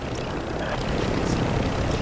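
Helicopter in the Call of Duty video game, a steady rotor and engine drone holding at an even level throughout, with no clear speech over it.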